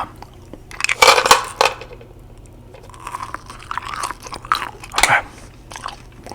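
Close, wet chewing and crunching of gum in the mouth, in irregular bursts with small clicks, and a brief spoken word near the start.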